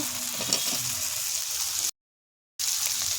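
Spices and tomato sizzle steadily in hot oil in a pan for an egg curry with potato and cauliflower, a constant loud frying hiss broken by a brief cut to silence.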